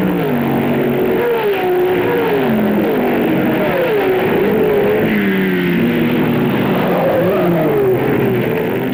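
Porsche and Ferrari sports racing cars in the 1967 Brands Hatch six-hour race: several loud engines overlap, their pitch sliding up and down as the cars accelerate and lift, with an unbroken roar throughout.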